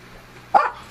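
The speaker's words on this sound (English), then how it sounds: "that is the dog who doesn't like it when she's not getting the love." A single sharp bark from a dog in a home indoor-garden setting, fairly close and loud, standing alone against quiet background.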